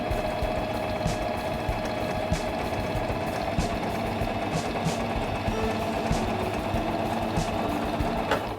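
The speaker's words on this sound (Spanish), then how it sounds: "Realiza el remate y cose toda la línea con este ancho." A Singer mechanical sewing machine stitching fabric runs steadily for the whole stretch with a fast, even mechanical chatter and a low motor hum, close by and with no voices.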